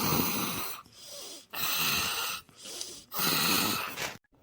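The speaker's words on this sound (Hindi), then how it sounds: "माँ जी तो बड़ा लंबा चौड़ा खर्राटा ले रही है।" A sleeping woman snores loudly in long, heavy, rasping breaths, about four snores in a steady rhythm with short pauses between, close and alone.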